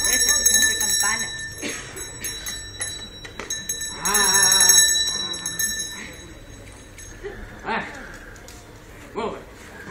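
Small bells ring in short bright strikes at intervals, mixed with people talking and nearby activity, in a busy setting.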